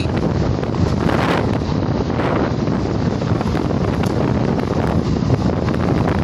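Constant heavy wind noise blasting across the microphone, a dense rushing roar with gusty swells and no clear voices.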